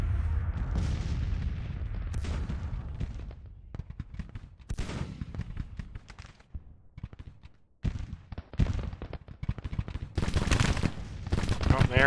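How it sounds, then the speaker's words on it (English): Battlefield gunfire in the Civil War strategy game Grand Tactician: The Civil War, with rolling volleys of musketry and booming artillery bursts that come in irregular clusters with brief lulls between them. "Good thing I heard the gunfire in the west, or gunfire on the left flank"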